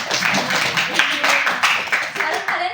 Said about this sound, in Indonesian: Beri tepuk tangan untuk Sofia.